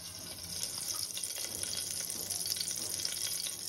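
Cumin seeds dropped into hot ghee in a pan, giving a steady, close hiss and sizzle that holds evenly throughout with no talk.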